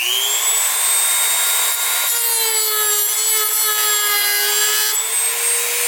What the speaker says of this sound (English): It's kind of an awkward cut, even with the Dremel.